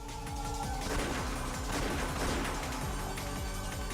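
Dense, continuous gunfire with rapid bursts and crashing impacts from the video game Umineko, loud and busy throughout, like a chaotic game firefight.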